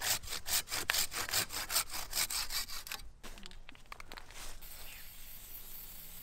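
A hand saw pruning a tree limb works in quick, even rasping strokes close up for about three seconds, then stops, leaving scattered faint knocks and rustles.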